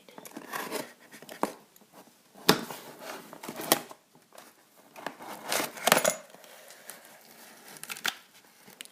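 A package being cut open with a blade: close crinkling, tearing and scraping of packaging in irregular bursts, with sharp rips and rustles and no speech.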